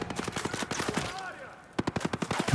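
Automatic gunfire in a first-person shooter video game, two rapid bursts of sharp shots separated by a brief lull, close and loud.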